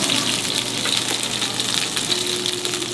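Onion fries loudly in a pan for Indonesian lamb tongseng, a close, continuous crackling sizzle with no pauses.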